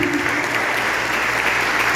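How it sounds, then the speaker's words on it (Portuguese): A church congregation at a family conference applauds in a dense, continuous wash of clapping, a low hum underneath and faint voices mixed in. "Bora dar uma forte salva de palmas"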